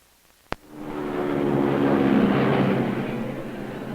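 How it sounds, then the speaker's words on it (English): An airplane comes in to land at Bermuda, its engine drone swelling up after a sharp click and holding loud and close before easing slightly toward the end, with no voices. "We're coming in for a landing at Bermuda."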